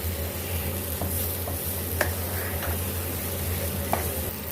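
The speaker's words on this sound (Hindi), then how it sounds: "अब इसमें हम ये किशमिश, नारियल और बादाम डाल लेंगे और इसको हम अच्छे से मिक्स कर लेंगे।" Grape halwa with raisins, coconut and almonds being stirred and roasted in a pan: a steady soft sizzle with a low hum beneath, broken by a few sharp taps of the spoon against the pan, close and even.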